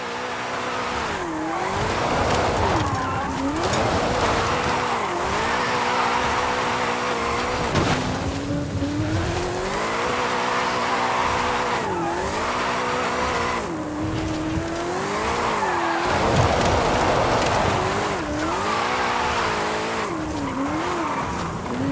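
Car engine in Forza Horizon 5 on a downhill volcano run, loud and continuous with repeated rising and falling revs and tire squeal through the drifts, no voices.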